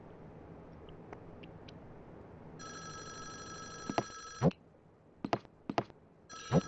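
A telephone rings in the Five Nights at Wario's video game, a sustained electronic ring over a quiet hum, followed by sharp clicks and thuds.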